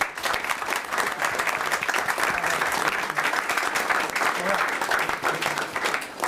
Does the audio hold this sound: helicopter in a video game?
no